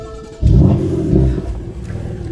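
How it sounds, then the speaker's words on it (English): A BMW M3 engine turns over and catches, settling into a deep, steady rumble with a slight rev, heard close up. "when I start up the car, this thing sounds so stock"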